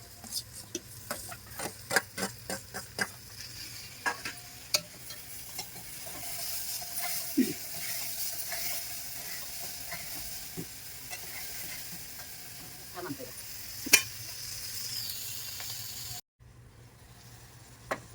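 Bitter gourd and tomatoes sizzle in a pan under a continuous hiss, with frequent clinks and scrapes of a stirring spoon near the start and fewer scrapes later.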